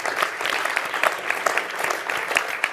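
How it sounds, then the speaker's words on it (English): An audience at an impact investing summit applauds, a steady wash of many hands clapping at moderate distance, even and sustained for the whole stretch without voices. "a big round of applause for those guys"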